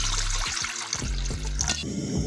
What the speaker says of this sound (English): we're going to put water to boil first before we put the omena